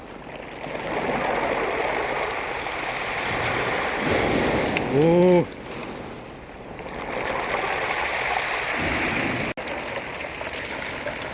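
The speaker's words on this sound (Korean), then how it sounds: "파도에 멍돌이 쓸려가는 소리 좋고요" Surf washing over a pebble beach near Hwanggeumsan in Seosan, with the pebbles pulled along by the water: a steady rushing swell that rises and recedes, and a brief exclamation from a voice midway.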